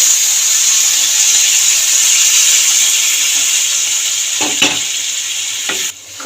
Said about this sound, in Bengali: মশলা দিয়ে তেল ছাড়তেও শুরু করে দিয়েছে এবার আমি জল দিয়ে দেবো পরিমাণ মতন